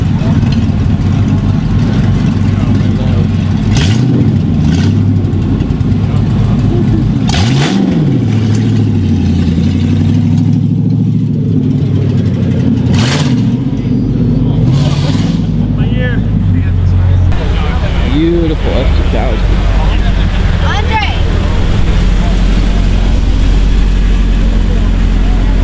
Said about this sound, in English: we got an LS Miata over here